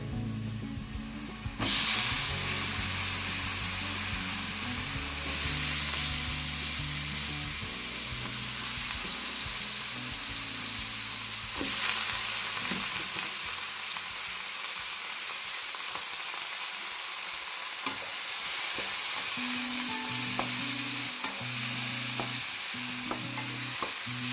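Cut brinjal pieces fry in hot oil in a pan for a brinjal and dry prawn curry, a steady close sizzle and hiss broken by repeated scraping stirs throughout.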